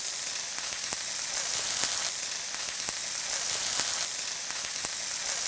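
Tempeh bacon fries in a pan with its marinade, giving a steady, close sizzle with crackles and small pops scattered throughout and no talking.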